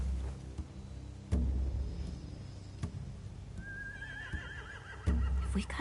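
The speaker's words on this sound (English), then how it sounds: "They have horses." Horses whinny in The Walking Dead: The Final Season game, a rising, wavering neigh in the latter half over a low ambient bed with occasional thumps, no talk.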